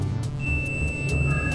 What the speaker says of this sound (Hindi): बजर सुनाई दे रही है।